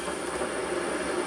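Hot water pours from a hot cup dispenser into a jug, a continuous close hissing rush at a steady level for just over a second.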